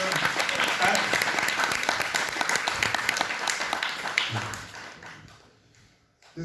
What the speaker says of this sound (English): Round of applause for all the acts.